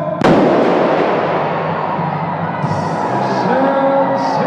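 A human cannon fires at a live show with one sudden loud boom right after a countdown. The blast decays into a lingering rumble while the crowd cheers and whoops in the background.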